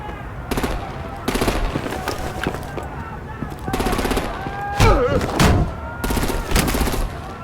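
Rapid automatic gunfire comes in several bursts in a Batman Telltale Series video game scene, with voices and other action sounds between and under the shots.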